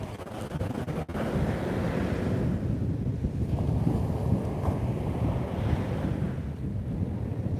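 Ocean waves wash in and recede on a shore, a continuous rushing surf that swells and fades, mixed with wind buffeting the microphone, with no voices.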